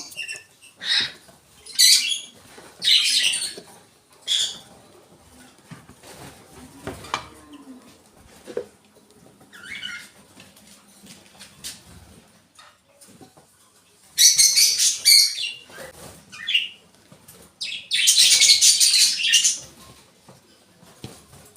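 Pet lovebirds in an indoor bird room, bursts of shrill chirps and harsh squawks from several birds, close and loud, coming in irregular clusters separated by quieter gaps with faint rustling.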